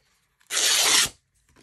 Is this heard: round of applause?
no